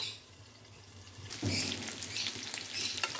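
Chicken frying in a pan, a faint hiss that bursts into a loud, crackling sizzle partway through and keeps spitting steadily, close and without talk.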